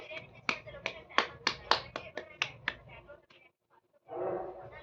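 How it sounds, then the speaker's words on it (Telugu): A young child's picture-names lesson at home, with about a dozen quick sharp hand claps in an uneven burst close by, then a brief pause and a short rustling noise, no words spoken. "clap for 1000"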